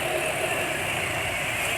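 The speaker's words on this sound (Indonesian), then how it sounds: "Dipakai pelan kasar terus, suara mesin kasar." A motorcycle engine running on unsuitable oil idles roughly and steadily, giving a continuous, moderately loud mechanical drone with a slightly uneven, knocking texture and no talk over it.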